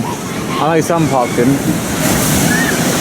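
Steady wind buffeting the microphone with a broad rushing roar at Plopsaland De Panne theme park in November, while a person talks briefly over it.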